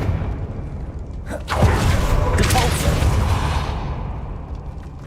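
A Confringo spell explosion in Hogwarts Legacy, a sudden heavy boom with a rushing blast that lingers and slowly fades over a low background rumble.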